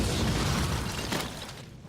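A cannon fires in a loan advertisement, one dense broad boom that fills the start and slowly fades away.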